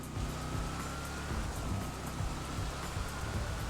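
Rain falls in the GTA Online video game during vehicle testing, a dense, steady hiss of drops on surfaces over a low, continuous rumble.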